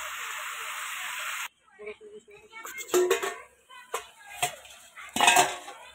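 A spoon scrapes and clinks against a cooking pot while desi chicken is stirred, after a steady hiss of frying up front; the clattering strokes come in irregular bursts, close and fairly loud.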